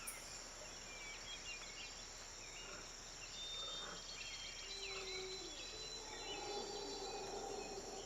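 Crickets chirp steadily in a quiet night-time nature scene from the Black Myth: Wukong video game trailer, with occasional faint bird calls and whistling tones above a soft, continuous insect drone.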